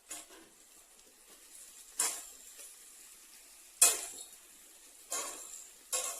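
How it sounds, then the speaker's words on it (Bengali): A spoon scrapes and clinks against a pan while spiced new potatoes are stirred, with a faint sizzle underneath and several distinct metallic strokes at irregular intervals. "আমি আলুটা আরেকবার নেড়ে নেবো।"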